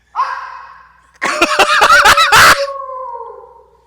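A woman imitates a dog, giving a drawn-out howl, then a burst of loud, rhythmic growling and barking vocal noises that trail off into another howl, close and loud.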